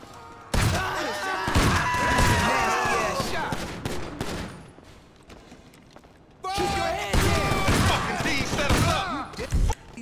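Gunfire from new Drug Wars weapons in GTA Online, heavy rapid bursts of shots in two long volleys separated by a quieter gap, loud and close with echoing tails.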